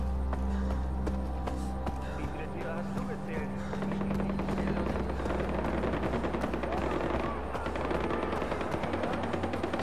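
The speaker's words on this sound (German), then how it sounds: "nachdem das so wild geschossen wird" Dense, continuous gunfire crackles in a chaotic firefight in Far Cry 4 in Kyrat, layered over a low engine or rotor rumble and steady action noise.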